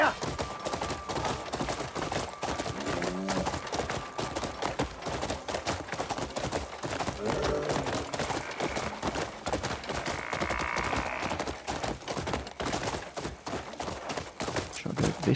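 Horse hooves pound in a rapid continuous gallop in Crimson Desert, loud and close throughout, with faint game sounds layered underneath.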